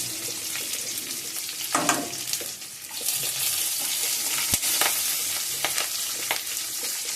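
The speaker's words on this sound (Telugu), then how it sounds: "అందులో గింజలు నూనెకి టపటపమంట పేలు ముఖం మీద పడతాయి" Green chillies, urad dal and chana dal fry in hot oil for a potato curry, giving a continuous close sizzle broken by sharp crackles, pops and stirring scrapes, with one distinct snap in the middle.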